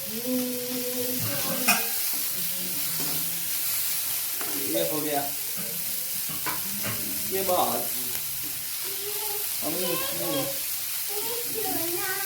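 Vegetables for a sandwich filling, including grated carrot, browning in a pan: a constant sizzle with stirring scrapes beneath a person talking almost throughout.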